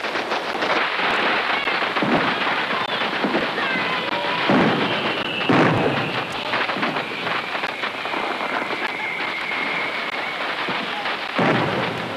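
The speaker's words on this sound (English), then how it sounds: "Hey, the fireworks are gonna start." Fireworks explode in a continuous crackling barrage of bursts and booms, with whistling streaks rising between the louder blasts.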